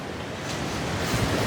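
Strong sea wind blows at Copacabana in Rio, roaring across the microphone over the wash of surf, a dense, steady rush that swells slightly toward the end.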